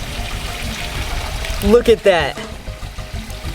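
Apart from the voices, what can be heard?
water scooped by hand and dripping into a koi pond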